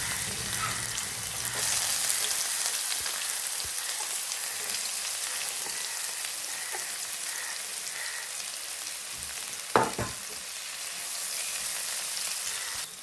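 Bitter gourd pieces fry in hot coconut oil on a tawa, giving a continuous close sizzle with a brief sharper crackle midway and no speech.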